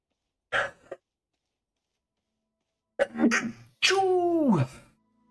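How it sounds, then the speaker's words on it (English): A person sneezes while playing the game Astroneer: a short vocal noise first, a pause, then a sharp wind-up and a loud, drawn-out sneeze close to the mic in an otherwise quiet room. "Oh, sneeze."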